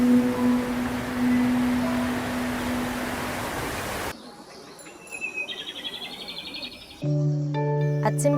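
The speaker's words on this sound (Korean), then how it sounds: "아침 새소리로 하루를 연다." Morning birdsong in rural Goesan, Korea: chirps and short whistled phrases over a noisy outdoor bed, with the scene shifting partway through to clearer, sparser calls.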